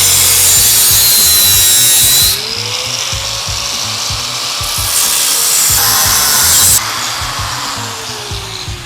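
A power cutting tool grinds steadily through BMW S1000R motorcycle exhaust header pipes up close, its pitch shifting as the blade bites and eases, with no talking over the harsh continuous noise.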